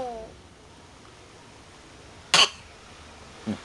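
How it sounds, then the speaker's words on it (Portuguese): A child coughs once sharply, a short harsh burst close by in a quiet indoor room, followed a second later by a softer cough or vocal sound. "Resolveu tossir agora"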